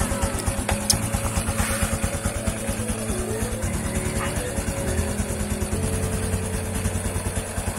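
A Honda XRM 125 FI motorcycle engine, freshly oil-changed, runs close by with a fast, even putter, a few small throttle blips over a steady idle.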